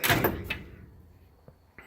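A metal drawer on a 36-inch Masterforce tool box slides and knocks shut with a close thump, followed by a couple of softer clicks.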